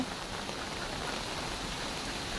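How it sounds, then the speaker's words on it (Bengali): Steady, dense rain from Cyclone Remal pours down without a break in a coastal area of Ashashuni, a broadband hiss of drops striking surfaces close by. "প্রচুর বৃষ্টি হচ্ছে"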